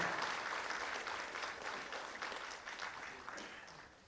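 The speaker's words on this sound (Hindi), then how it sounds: "तालियां आपकी तरफ से जोरदार" An audience at a government ceremony for a school tablet distribution applauds a chief secretary's welcome, a dense continuous clapping that stays fairly faint and distant, tapering slightly toward the end.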